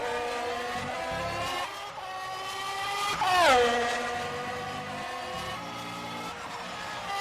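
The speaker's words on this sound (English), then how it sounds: "Absolutely a little lift before the left hand of Pouan" An F1 race car in the F1 2021 video game at the Belgian Grand Prix holds a high, buzzing engine note. The pitch sags briefly as the driver lifts off the throttle before Pouhon, then settles back into a steady whine.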